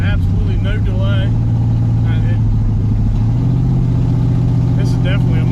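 A 1968 Camaro V8 fitted with Holley Sniper EFI pulls hard under throttle, a steady loud in-cabin engine drone rising in pitch, while people talk over it.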